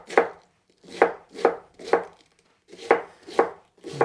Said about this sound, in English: shave it as thin as I can. And if it's a little big, I'll cut it across and then just keep slicing.